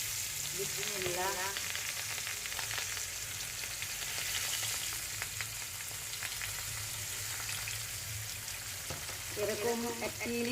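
Hilsa fish frying in hot oil, a steady loud sizzle throughout with occasional spattering crackles and faint kitchen clatter near the end.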